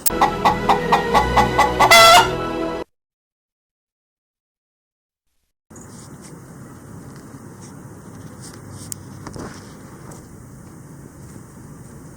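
Farmyard chickens cluck in quick rhythmic bursts with a rooster-like crow for about three seconds. A silent gap follows, then a steady low ambient bed with faint scattered bird calls.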